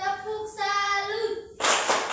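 Classroom children chant the Indonesian tepuk salut game, voices giving way to a short, loud flurry of group clapping at the end.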